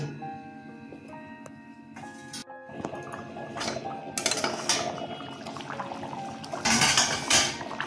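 A lid clanks onto a cooking pot of vegetarian jackfruit seed and potato curry, amid scattered metallic clinks, scrapes and soft kitchen clatter, with a louder rattle near the end.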